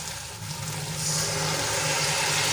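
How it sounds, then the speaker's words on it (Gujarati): Water poured into a pot of whole-garlic curry, a rushing splash that swells and grows louder after a moment, then streams steadily. "તો એમાં આપણે હવે પાણી ઉમેરીશું"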